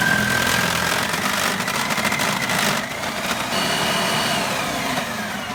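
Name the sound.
machine grating a bar of soap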